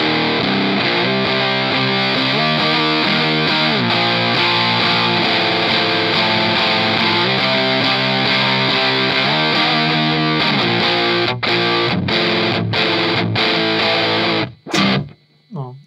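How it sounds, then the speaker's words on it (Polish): A techno synth line pushed through a distortion effect plays loud and continuous, gritty sustained tones with shifting pitch steps, ending in a few sharp cut-off bursts. "Możemy sobie go wykorzystać jako przester zwykły."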